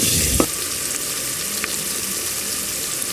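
Ginger paste fries with browned onions in a pan for Telangana-style drumstick sambar, a steady close sizzle with a stirring scrape near the start.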